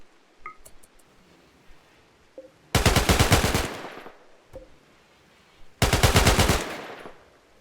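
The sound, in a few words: gunfire from colonists shooting in video game Rimworld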